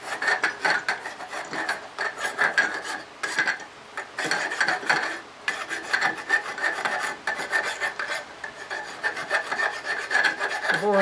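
A file rasps back and forth across a metal motorcycle engine part to deburr it, producing rapid, rhythmic scraping strokes with brief pauses, close and fairly loud with no talking.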